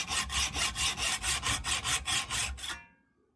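Steady hand-saw strokes cut through a rounded metal bayonet catch for a Mannlicher 95 rifle clamped in a vise, about ten even rhythmic passes close up, then stopping.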